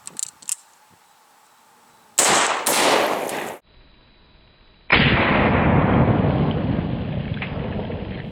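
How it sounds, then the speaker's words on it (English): A .223 AR rifle fires 55 grain Wolf full metal jacket rounds into body armor. Several short, sharp cracks come first, then a loud burst of about a second and a half, then a long, sustained roar of noise that slowly fades. "The round we're going to be using here from the AR is going to be some 55 grain Wolf full metal jackets."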